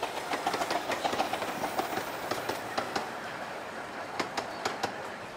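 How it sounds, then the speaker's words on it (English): A Romney Hythe & Dymchurch miniature railway train runs at Dymchurch station with a steady rolling rumble and repeated sharp clicks of wheels over rail joints, near and continuous. "At Dymchurch station we pause to pick up more passengers."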